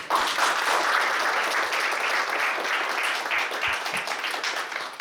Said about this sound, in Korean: 우리 세 분께 박수 부탁드립니다.